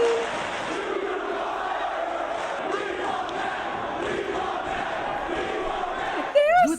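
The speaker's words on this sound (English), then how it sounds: "the crowd could not be more irate seeing Jeff Hardy in Ring of Honor" A wrestling arena crowd loudly boos Jeff Hardy's Ring of Honor debut, a sustained, heavy rumble of jeering voices that holds steady, with a brief sharp vocal outburst at the very end.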